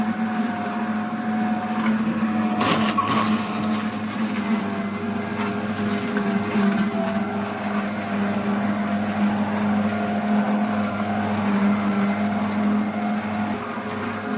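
An electric juicer runs steadily while juicing ingredients for an immune-boosting recipe, giving a loud, continuous motor drone with a steady hum and a brief clatter near the start, and no voices over it.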